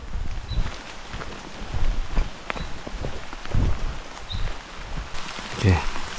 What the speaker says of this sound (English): Oh man, it's fucking raining hard.